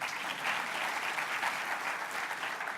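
An audience at an annual community gathering applauds steadily, a dense wash of many hands clapping without pause.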